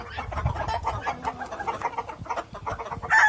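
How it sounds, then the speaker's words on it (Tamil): A fighting rooster clucks repeatedly in short, rapid bursts close by, with some scuffling and background noise throughout. "சண்டை கோழி"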